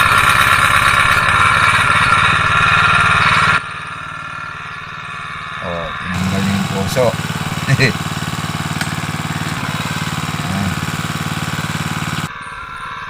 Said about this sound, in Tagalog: Para pag umandar na yung motor, dire-diretso yung paghigop ng tubig.